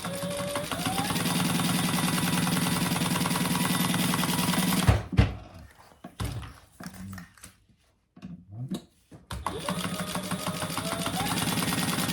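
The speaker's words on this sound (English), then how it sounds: "sew down those lines" A sewing machine stitches down lines on a clutch wallet in rapid, steady bursts, running continuously, pausing briefly amid light handling noises, then resuming at a close, even pace.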